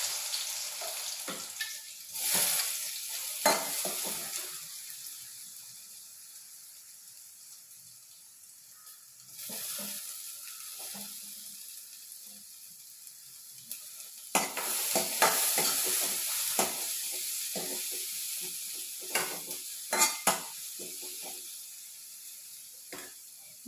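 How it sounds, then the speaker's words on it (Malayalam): Onions fry in a pan in a home kitchen, with a continuous sizzle broken by repeated scraping stirs and bursts of louder activity, and running water in the background. "ഉള്ളി അതിന് ഇച്ചിരി നല്ലതായിട്ട് മൂപ്പിച്ചെടുക്കണം"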